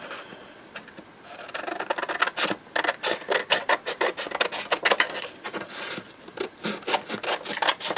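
Scissors cut around book page paper, a close series of crisp rasping snips and rustles in uneven bursts, growing busier partway through and otherwise quiet.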